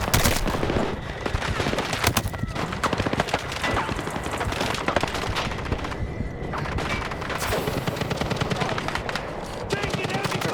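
Rapid gunfire crackles through a Battlefield 6 firefight, with dense bursts of automatic shots and sharp single reports over several seconds, mixed with shouted squad callouts and explosive thumps.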